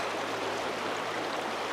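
A cold winter river rushes and flows in a steady, dense wash of water noise that stays constant and fairly close throughout, with no talking.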